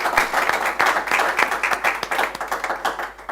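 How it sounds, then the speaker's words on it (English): An audience applauds the panelists at an Institute for the Future of Work panel event at Tshwane University of Technology, a dense, steady round of many hands clapping that carries on throughout with no talking. "Maybe we need to give them another round of applause for the insights they've given."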